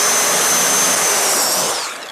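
A power saw cuts plywood wallboard, a loud close whining roar with a high steady tone that winds down at the end.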